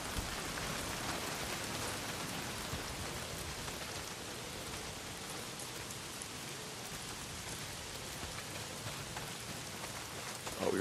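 Steady heavy rain pouring down in the video game Days Gone, a dense, even hiss of downpour lasting throughout with no pauses.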